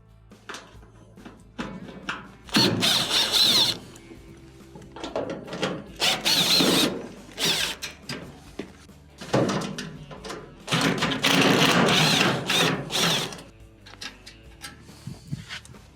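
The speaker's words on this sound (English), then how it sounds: "It's held on by 3 Phillips screws on the bottom lip here." Phillips screws are driven out of a dryer's top panel with a power tool, heard as several separate whirring bursts of a few seconds each with pauses and small handling knocks in between, close and fairly loud.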